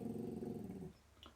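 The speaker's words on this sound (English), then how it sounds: "Sorry, a little dog barking." A small pet dog named Luna growls and grumbles low and steadily, fairly close but quiet, and lets out a short yip at the end.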